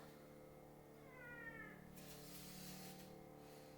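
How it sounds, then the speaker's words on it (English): A small cat meows close by in a drawn-out, wavering cry that rises and falls. It is faint and sits over a steady background hum, with no talking. "You guys hear this little cat?"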